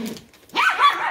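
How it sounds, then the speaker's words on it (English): Dogs bark excitedly in a short, loud burst of yips and barks close by, with no talk. "The dogs are going crazy."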